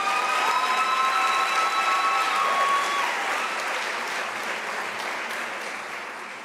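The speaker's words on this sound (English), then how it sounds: "Let us give him a round of applause." A crowd applauds at a university spring graduation ceremony, sustained clapping that gradually fades, with a brief tonal whistle-like sound over the first half.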